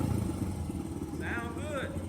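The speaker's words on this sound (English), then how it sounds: "First kick with no choke." A 2001 Honda XR100 dirt bike engine running after a first kick-start without choke, a steady low rumble throughout with a faint higher whine briefly rising over it.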